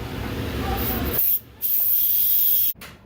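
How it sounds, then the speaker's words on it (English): Steam bursts from a pressure cooker's relief valve after cooking ginger and carrots, a loud forceful hiss that cuts out abruptly, resumes in a second strong blast, then stops short. "I'm going to go ahead and just hit the pressure relief valve"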